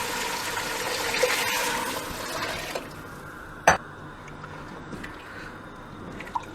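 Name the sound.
pouring lamb yakhni broth into a pot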